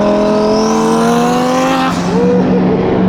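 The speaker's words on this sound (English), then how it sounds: "the turbo noises is crazy" Loud, close engine of a twin turbo Audi R8 with a steady drone and a rising turbo whistle, a shift in pitch near the end, continuous for a few seconds.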